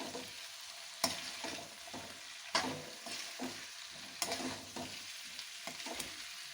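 Ground spices get stirred into a cauliflower and carrot pickle cooking in a pan: a soft steady sizzle broken by repeated scraping strokes and a few sharper clinks of the spoon, close and fairly quiet, with no talking.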